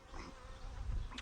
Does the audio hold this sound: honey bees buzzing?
yes